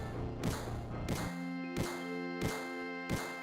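Barrett's gun in a video game fires five heavy booming shots at roughly even intervals, each a sharp thud over a low background hum, with no talk.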